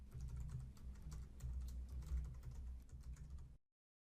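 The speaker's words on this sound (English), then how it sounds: "we're going to type the words Starter Templates into the search bar in the top right" Steady, rapid typing on a computer keyboard, close and clear, with dense overlapping keystrokes for about three and a half seconds before stopping abruptly into silence; no voices.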